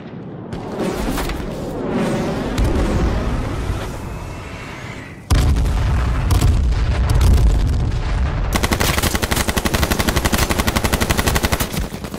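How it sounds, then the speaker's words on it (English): Video game combat with an airstrike, a deep rolling explosion followed by another heavy blast, then rapid sustained machine-gun fire in a dense rattling stream, loud and close throughout. "I'm throwing airstrike, I'm throwing airstrike."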